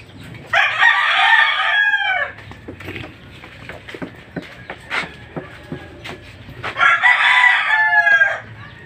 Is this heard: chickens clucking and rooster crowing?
yes